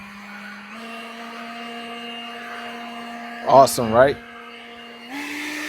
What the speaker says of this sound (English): We'll do a little blower test.